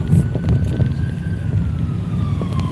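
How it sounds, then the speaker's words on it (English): A fire truck siren wails past under steady wind noise, its tone gliding slowly downward as it moves by at moderate distance over a continuous low road rumble. "What is that, an ambulance? It's like a fire truck or something."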